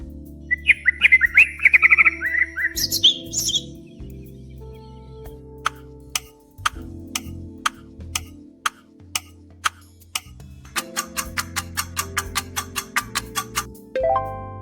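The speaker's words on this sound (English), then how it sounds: "That is the nightingale." A nightingale sings in a few rich, whistled phrases. Bright, sharp ticks repeat steadily through the whole stretch, and a low hum sits underneath.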